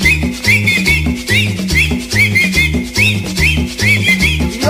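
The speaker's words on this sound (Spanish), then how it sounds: "Y ahora chiflando todo, chiflando todo." A bright whistle line recurring in short rising phrases over a pounding, repetitive cumbia party beat with bass and accordion, loud and continuous with no voices.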